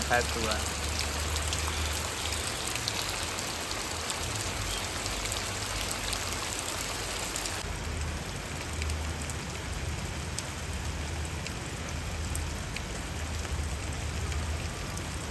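Heavy unseasonal rain falls continuously in a village near Botad, Gujarat, a thick even wash of drops hitting surfaces, with a brief shift in tone partway through but no letup.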